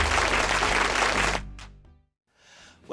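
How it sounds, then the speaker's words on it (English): An applause sound preset from an Akai MPK Mini keyboard produces a loud, dense burst of synthetic clapping with a low hum underneath, cutting off abruptly after about a second and a half, followed by a brief fainter noisy tail. "you need this applause"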